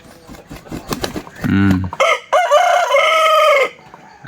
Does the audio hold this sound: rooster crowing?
yes